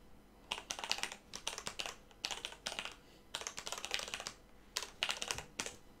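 Typing on a computer keyboard while naming a custom trophy craft item in the Creation Kit, with quick bursts of close, crisp key clicks separated by short pauses, and no voices.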